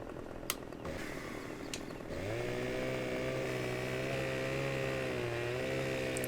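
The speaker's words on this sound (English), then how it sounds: "Get our chainsaw warming up again." Husqvarna chainsaw in Farming Simulator 15, a couple of sharp clicks followed by the engine revving up into a steady, buzzing drone that holds loud and constant with a slight dip partway through.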